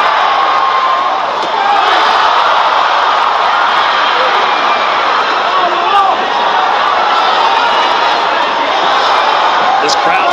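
A large boxing arena crowd at the Pacquiao vs Matthysse fight roars in a dense, loud, continuous wash, with cheers and whoops rising over it and a commentator talking across it.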